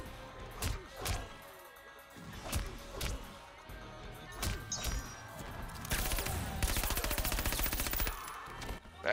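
Rapid gunfire from the Guns Blazing move in Mortal Kombat 11, a burst of sharp cracking shots building into a dense, loud rattle near the end, after several separate percussive hits.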